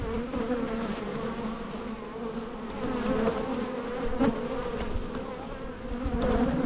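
Honey bees in an opened hive during an inspection on a windy day give a dense, steady buzz that swells and fades slightly, close and continuous throughout with no talking.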